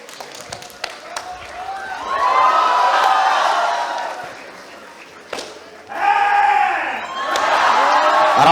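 A crowd cheers and applauds in bursts at an institute day cultural program, welcoming wrestlers, swelling loudly twice with a brief lull between, close and lively.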